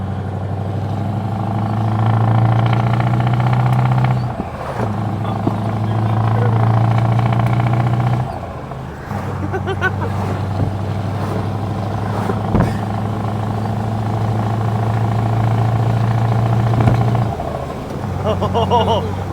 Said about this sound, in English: I love the turbo sound.